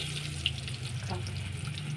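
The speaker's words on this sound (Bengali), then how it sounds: "বড়া ভাজা হয়ে যাচ্ছে, উল্টে দিচ্ছি একটু করে" Fritters of fish fat, rice flour, onion, spring onion, coriander leaves and chili fry in a pan as they are turned, making a soft, steady sizzle that stays fairly faint throughout.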